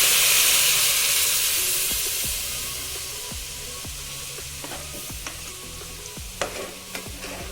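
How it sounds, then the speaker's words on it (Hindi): Lamb chops for Afghani chaap fry in hot oil, giving a loud, steady sizzle and hiss that eases slightly over time, with occasional utensil clicks and taps near the end. "पसंदे या चाप तल रहे हैं।"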